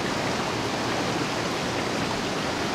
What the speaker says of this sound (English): Is that water I'm hearing?